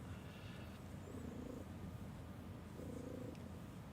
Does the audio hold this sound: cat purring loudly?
yes